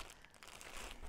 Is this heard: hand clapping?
no